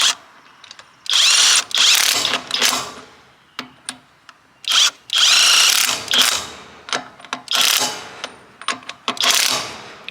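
A cordless 1/2-inch drive impact wrench snugs lug nuts on a wheel in loud, rapid hammering bursts, several short runs separated by brief pauses and small clinks of sockets and nuts.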